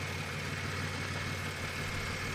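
A Chevrolet Monte Carlo SS engine idles with a steady, even hum and low rumble, unchanging throughout, with no talking.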